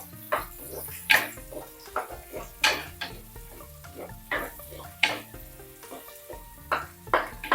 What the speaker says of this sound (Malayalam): ഇതൊന്ന് നല്ല വഴന്ന് വരട്ടെ.